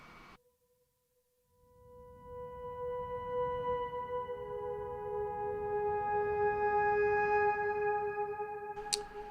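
Two-note lead motif on a Pigments synth using the Atacama Desert preset, with long sustained tones that swell in with a bright, shimmering tail, moderately quiet and alone.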